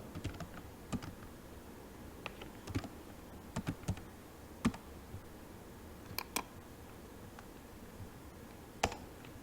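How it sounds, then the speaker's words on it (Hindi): Keys clack sparsely on a computer keyboard as an FTP command is entered, irregular faint taps spaced out over a quiet background. "यहाँ पे मैं कमांड टाइप करूंगा FTP और FTP सर्वर का IP एड्रेस टाइप कर दूंगा"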